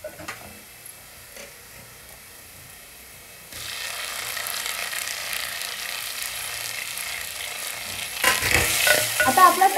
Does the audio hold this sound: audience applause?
no